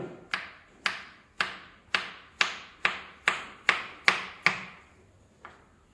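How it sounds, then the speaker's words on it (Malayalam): A knife cuts through a banana on a board in a rhythmic series of about nine close, crisp taps, evenly spaced and fading slightly at the end, with one last softer tap after a pause. "അതിന് വേണ്ടി ഞാൻ പഴം കട്ട് ചെയ്യാണ്"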